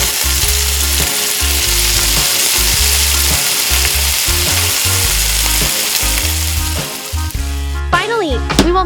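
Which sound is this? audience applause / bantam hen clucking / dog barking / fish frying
fish frying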